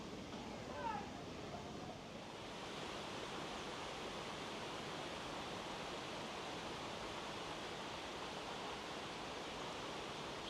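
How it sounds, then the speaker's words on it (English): A waterfall in Parque Taoro, Puerto de la Cruz, Tenerife, gives a constant, dense rushing of falling water, steady and broad, with a brief faint high chirp near the start. "Source of the waterfall."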